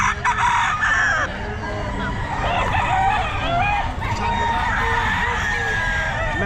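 A stag rooster crows loudly and close at the Bocaue pet market, a drawn-out crow over a steady babble of crowd noise and nearby voices.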